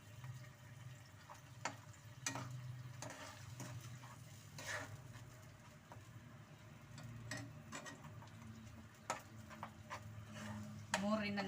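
Paneer gravy masala frying with turmeric and rock salt in a pan, a soft sizzle with scattered clinks and stirring taps under quiet kitchen ambience.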